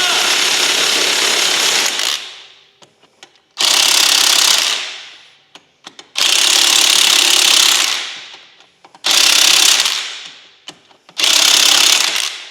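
Loud bursts of a pneumatic air ratchet or impact tool tightening a wheel, five long roaring runs of about two seconds each separated by brief pauses with faint clicks.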